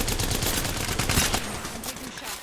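Rapid gunfire crackles in a shooter video game, a dense volley of sharp, close shots that tapers off into a few scattered cracks.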